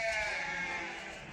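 A sheep from a small herd of livestock offered for sale gives one drawn-out bleat, close and fairly clear, filling the short moment alone.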